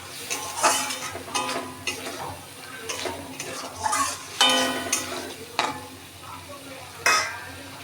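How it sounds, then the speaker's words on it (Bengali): Masala spices frying and being stirred in a pan over a medium flame while making dahi bhindi, with soft sizzling and repeated scraping and clinking strokes of a spoon against the pan. "এবারে ফ্লেমটা মিডিয়াম করে ভালো করে মশলাটা আবার ভেজে নিতে হবে।"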